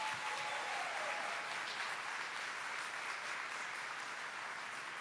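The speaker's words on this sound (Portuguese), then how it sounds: "Pode aplaudir de novo?" A church congregation applauds steadily for several seconds. The clapping is dense and fairly soft, with no voices over it.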